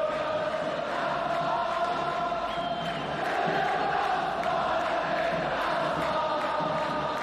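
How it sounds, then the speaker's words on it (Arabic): Wydad football supporters fill a stadium with a steady, dense roar of crowd chanting and cheering that carries on without a break. "بطبيعة الحال يعني الإحماء الجماهير يبدأ"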